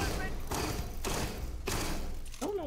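Sniper rifle gunshots in the video game Starfield, three heavy booming shots spaced about half a second apart over a steady game background, followed by a short whooshing sweep.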